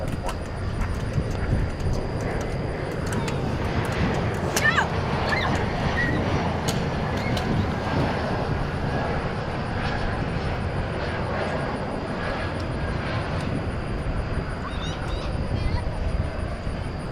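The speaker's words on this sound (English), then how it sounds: "we got Turkish inbound an A350" A Turkish Airlines Airbus A350 arriving at a busy airport, heard as a steady, fairly distant jet roar with wind and background rumble throughout, under intermittent talk.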